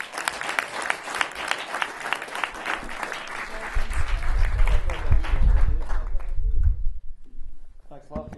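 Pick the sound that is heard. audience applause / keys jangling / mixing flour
audience applause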